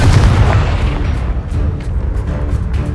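Heavy booming blasts from a Confringo explosion spell in a video game roll on for the whole stretch, loud and close, with repeated thuds layered over a deep rumble.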